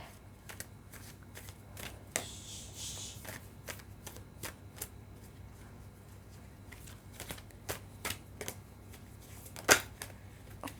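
Tarot cards being shuffled before a draw, a series of soft, crisp riffling snaps and taps coming in uneven bursts, close and quiet, with no talking.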